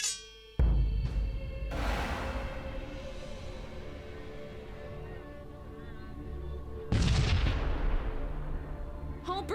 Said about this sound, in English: Fire point defense guns.